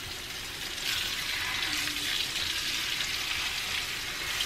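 Rainbow trout pan-searing in a greasy pan, a soft, steady sizzle that holds level throughout, fairly quiet and close, with no voices.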